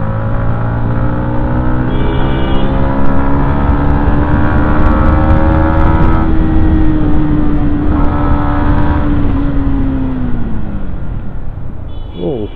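A Yamaha MT-15 motorcycle engine revs and pulls steadily while being ridden, loud and close throughout, its pitch rising and settling with throttle changes as the bike works its way through a tight spot.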